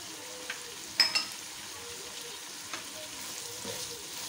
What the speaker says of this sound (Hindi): टमाटर डाल के मैं थोड़ा सा इसको भून लूँगी